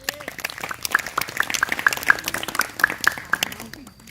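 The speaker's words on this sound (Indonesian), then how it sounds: "Oke, tepuk tangan untuk Anda semuanya" Audience in a school motivational session claps in a loose, moderately loud patter of individual hand claps, with some speech mixed in.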